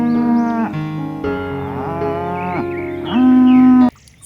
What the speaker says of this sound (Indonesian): This is cow.